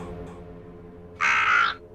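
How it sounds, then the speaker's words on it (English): A single loud crow caw rings out briefly in an animated film's desert scene, standing alone against quiet background. "Suddenly, Puss wakes up to find himself in the middle of the desert surrounded by crows"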